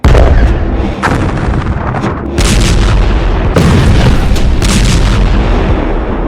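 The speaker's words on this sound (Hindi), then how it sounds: "तोप के गोले बरस रहे हैं।" Heavy booms of artillery fire and shell explosions in the Israel-Hamas war in Gaza roll continuously, loud and close, with repeated blasts layered over a dense rumbling barrage.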